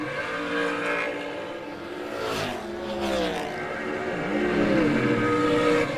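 A drag race run by the 08 American dragster, with a loud, sustained engine roar and rising and falling revs throughout, tones sweeping as the car accelerates, under a faint announcer-like voice.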